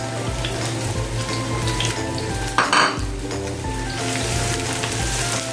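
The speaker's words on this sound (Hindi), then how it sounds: "ऑयल को थोड़ी देर के लिए मैंने हीट अप कर लिया। अब इसमें मैं प्याज ऐड करूँगी।" Finely chopped onions frying in hot oil for an Afghani omelette, a steady close sizzle broken by a brief clatter of a utensil against the pan midway, then continued crackling.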